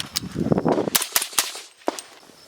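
Suppressed PSA JAKL rifle in 300 Blackout, fed from an AAC metal magazine, fires several sharp, close reports in an irregular sequence, each a short crack with a quick decay.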